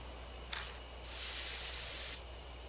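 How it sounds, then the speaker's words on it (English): A sprayer spraying pesticide in the game Death Mark: a brief hiss, then a loud continuous spray lasting about a second before cutting off, with no speech. "I take out the 99, put it in the sprayer."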